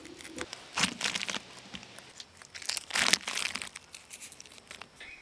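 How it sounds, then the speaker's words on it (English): Masking tape peeled off the bed of a 1987 El Camino with help from a razor blade: close crinkling and tearing rasps in several uneven bursts, with quiet pauses between. "You might just need to slip it under here, under the tape, just to help you get that off a little bit."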